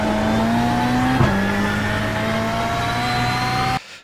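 A VW Beetle rallycross car in the iRacing game held at full throttle, its engine droning at a high steady pitch with a brief dip mid-run before cutting off abruptly.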